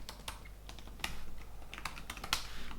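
Keys on a computer keyboard clack in irregular bursts and single taps, close and moderately loud, with no talking.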